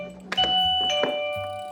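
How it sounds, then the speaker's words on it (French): Plug-in electric doorbell chime ringing close by, sounding a few clear ringing tones one after another, bright and loud. "c'est juste une sonnette"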